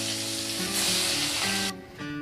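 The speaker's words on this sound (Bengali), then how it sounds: "আমি একই রকমভাবেই বাকি মাছগুলো ভেজে নেব" The remaining puti fish sizzle in hot frying oil, a dense, close crackle holding steady, then dropping off sharply near the end before resuming more faintly.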